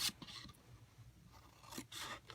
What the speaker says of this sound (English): And we're going to cut up to the score line here.